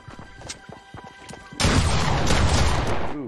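Shotgun fire in a video game: a few faint snapping shots, then a sudden loud sustained blast of overlapping gunfire and crashing that fills the last half of the moment.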